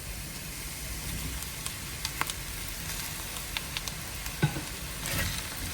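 Chopped tomatoes being stirred into sizzling masala for a Kerala-style crab curry, a steady close frying hiss broken by a few light spoon scrapes and clicks, with no talking.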